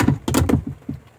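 A small cabinet door inside a Cirrus 620 truck camper is worked open and shut, giving a few quick knocks and clacks in close succession, near and fairly loud with no talking.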